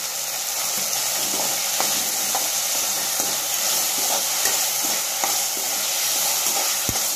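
Dal and tomato sautéing in a pan, a loud continuous sizzle and hiss with light scraping stirs and occasional taps of the spoon.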